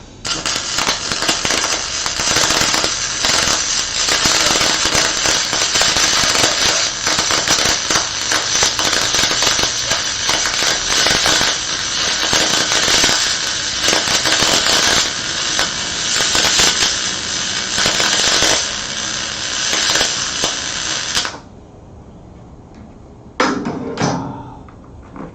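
A welding arc crackles and hisses loud and continuously for about twenty seconds as metal is welded, then stops abruptly, followed by a brief burst of noise near the end.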